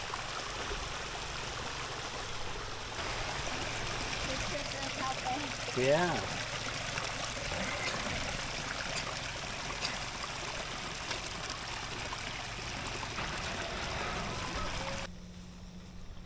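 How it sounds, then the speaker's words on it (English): Water drained off a rice field pours down a hiking path turned stream in the valleys south of Sapa, a steady broadband rushing and trickling throughout, with a brief voice and footsteps nearby. "This path we were walking up has become a river."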